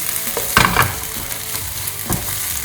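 Garlic and ginger paste frying over medium heat in a pan for egg masala, a steady sizzle under a few louder scraping strokes of stirring near the start and again toward the end.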